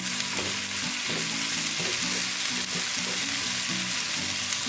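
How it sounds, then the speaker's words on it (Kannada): Mushrooms frying in a pan give a steady, fairly loud sizzle with faint stirring scrapes now and then, and no one speaks. "ಮಿನಿಟ್ಸ್ ಮಶ್ರೂಮ್ ಫ್ರೈ ಮಾಡ್ಕೊಂಡಿದ್ದೀನಿ"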